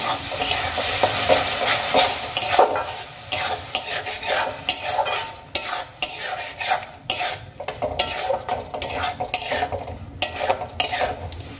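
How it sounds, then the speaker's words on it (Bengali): A spoon stirring and scraping spice masala with chopped green chili and tomato paste frying in a pan, with a loud sizzle and repeated rhythmic metal scrapes close up, with no talk. "এবার আমি সমস্ত কিছু একসঙ্গে খুব ভালো করে কষিয়ে নেব।"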